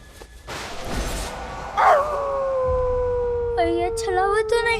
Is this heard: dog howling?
yes